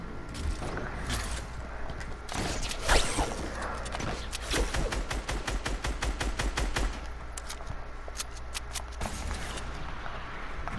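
Rapid booming volleys fire in quick succession, a dense barrage of Fortnite cannon shots with whooshes over continuous background noise.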